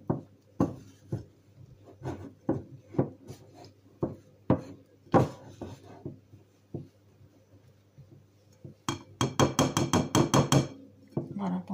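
Cookie dough is worked by hand in a bowl, giving irregular soft thumps and scrapes that quicken into a rapid burst of knocking near the end, close and fairly loud with no talk over it.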